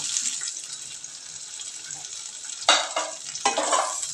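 Brinjals sauté in oil over a medium flame with a soft, steady sizzle, broken near the end by two clear scraping clatters as a spoon stirs them in the pan.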